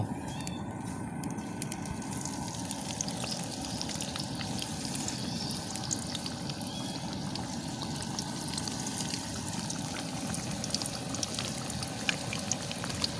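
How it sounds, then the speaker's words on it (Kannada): Banana flower vada frying in hot oil, a steady bubbling sizzle that holds evenly throughout at moderate loudness, with no talk over it. "ಇದನ್ನು ನಾವು ಗೋಲ್ಡನ್ ಬ್ರೌನ್ ಕಲರ್ ಬರುವವರೆಗೆ ಫ್ರೈ ಮಾಡಿಕೊಳ್ಬೇಕು"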